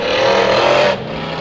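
A monster truck named Tough Enough doing slap wheelies at a fair freestyle show roars loudly with a high, sustained engine howl that drops abruptly near the end to a lower rumble.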